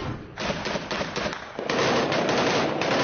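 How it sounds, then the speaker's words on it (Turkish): Continuous artillery fire during the Olive Branch military operation around Afrin, a dense, steady barrage of booming bursts and crackling blasts that grows louder after the first moments, with no voices. "Topçu atışı gün boyu aralıksız devam etti."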